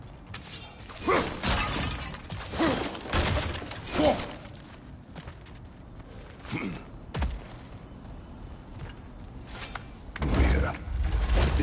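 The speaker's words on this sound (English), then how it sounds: "back to smashing through things for fun and profit" Breakable objects being smashed in God of War Ragnarök: repeated sharp crashes and shattering bursts, each followed by clattering debris, spaced a second or two apart. Quieter stretches sit between them and a heavy crash comes near the end.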